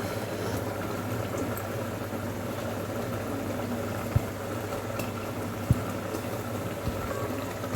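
Tomatoes simmer in a pan of boti charu, giving a steady bubbling hiss throughout with a few faint clicks.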